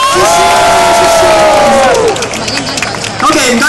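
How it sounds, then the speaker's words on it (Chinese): A live crowd at a race-day performance cheers and claps loudly, with a whistling voice sweeping across the noise early on before the roar settles into steady clapping. "来个美丽掌声"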